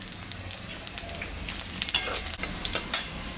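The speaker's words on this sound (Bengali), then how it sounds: "মাছ ভাজা তেলের উপরে আর একটু তেল আমি দিলাম, শুকনো লঙ্কা, পাঁচফোড়ন," Dry red chillies and five-spice seeds crackle and sizzle in hot oil left over from frying fish, with sharp pops scattered over a steady frying hiss, close and moderately loud.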